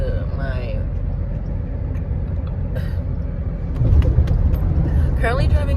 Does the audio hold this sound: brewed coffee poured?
no